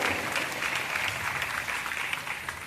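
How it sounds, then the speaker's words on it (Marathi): Parents clapping together at a school Haldi Kunku ceremony in Solapur, a steady dense patter of many hands filling the room at moderate level without a break. "पालकांनी सगळ्यांनी टाळ्या वाजून त्यांचं आभार माना"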